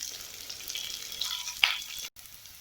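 Onion, garlic and curry leaves sautéing in oil in a home Tamil kitchen for pudalangai poriyal, a soft steady sizzle with a brief louder crackle near the end before a sudden cut.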